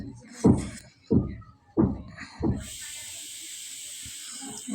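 Onion, turmeric and chili hit hot oil for a cauliflower-and-fish curry, and a steady bright sizzle sets in and holds after a few short, voice-like bursts.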